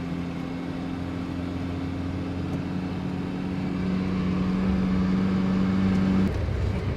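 Bus on the road, a steady engine drone with a low tonal hum that grows slightly louder midway and cuts out near the end. No one speaks.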